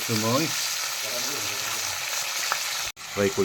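Chilies sizzling in hot oil in a pan make a steady, loud hiss throughout, with a voice briefly speaking over it near the start and end.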